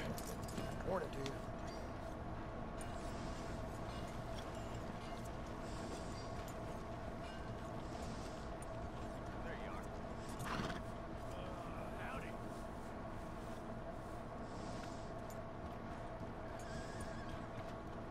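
A horse in the Red Dead Redemption 2 video game whinnies once midway, with scattered hoof clops over a constant droning game ambience.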